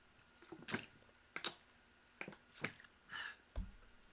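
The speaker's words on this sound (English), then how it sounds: "just drinking some water because I got a lot to say" Someone drinks water close to the mic, with a few soft wet sips and gulps spaced out, quiet and alone with no talking.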